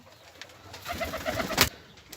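Pigeons coo softly in a loft, a run of low rounded calls rising to one louder burst near the end, with faint rustling around them and no talk.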